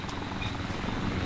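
A Black Hawk helicopter flying in Arma 2 produces a steady, dense rotor drone with low rumble, heard continuously and fairly close with no talking.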